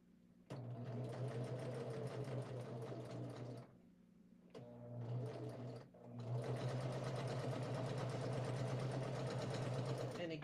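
Sewing machine stitching fabric seams, a rapid mechanical whirring chatter running in two long bursts with a short pause between, close and fairly quiet.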